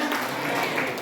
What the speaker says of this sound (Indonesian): Beri tepuk tangan kepada Tuhan